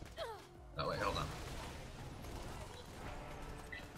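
Gunfire and a large explosion from a heavy-recoil gun in the video game Borderlands 2, a loud burst near the start followed by a sustained rumbling barrage, with players talking over it.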